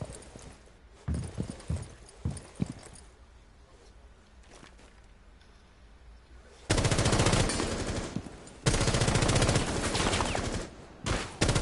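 Rapid automatic gunfire in Rainbow Six Siege aimed at a bot: a few scattered shots early, then long, loud, sustained bursts of continuous fire with brief pauses between them.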